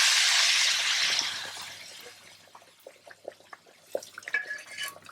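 Hot garlic and coriander tempering poured over thick dal in a pan, opening with a loud, broad hiss of sizzling oil that fades over about two seconds into scattered soft drips, clinks and crackles.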